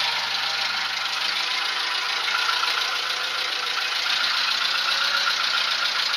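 The engine of a Peugeot 205 runs steadily in reverse gear during clutch reassembly, a close, constant mechanical drone with a knocking edge and no voices.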